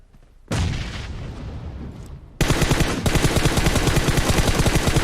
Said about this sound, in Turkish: Bomba denemesi de yapacağım.